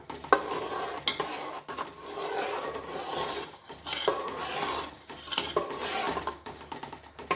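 Wheat flour is stirred in a pot while ghee is being made, a spoon scraping and rasping against the metal in repeated close strokes with brief sharp clinks.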